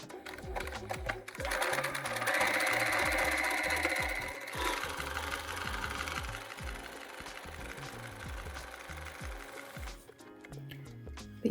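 A domestic sewing machine with a normal presser foot runs an overcast stitch, a fast close rhythmic chatter of needle strokes that speeds and slows before stopping near the end.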